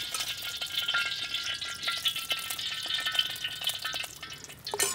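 Oil warming in a kadai for a Telugu-style raw banana fry, giving a steady, soft crackling hiss with faint clinks of a spoon against the pan throughout, no voices.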